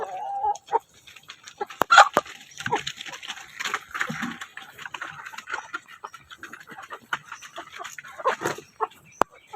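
Backyard chickens cluck and chatter close by while being fed banana trunk, spinach and napier grass, with scattered sharp clucks and soft murmurs throughout, and a voice occasionally speaking.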